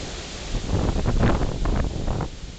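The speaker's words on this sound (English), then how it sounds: "The wind has just gotten insane." Hurricane Sandy winds tear across a back deck in a steady, heavy roar that builds into a sustained gusting surge through the middle, buffeting the microphone at close range, with no voices.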